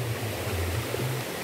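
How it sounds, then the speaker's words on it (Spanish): Water rushing steadily past, a continuous close hiss and burble with no break over the short stretch. "Miren cómo achuca el agua."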